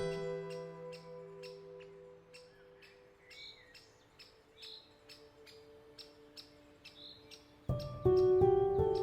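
Birds chirp in Thetford Forest, with repeated high tweets and calls fairly faint in the distance over a soft background hum, before a louder tonal sound cuts in near the end.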